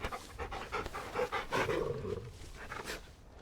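A dog pants in the video game Final Fantasy XVI, rapid rhythmic breaths close and fairly soft, with a faint whimpering tone mixed in and no talk.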